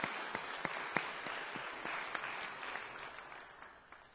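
A church congregation claps together in sustained applause during a Sunday service at its 70th-anniversary celebration, a dense, steady patter of many hands that fades slightly toward the end, with no voices over it.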